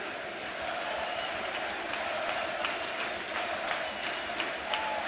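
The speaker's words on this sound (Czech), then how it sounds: "souvislý potlesk domácích fanoušků" Home fans at an extraliga hockey final between Zlín and Plzeň keep up continuous applause, a steady wash of crowd clapping and noise heard from a distance, with commentary running over it.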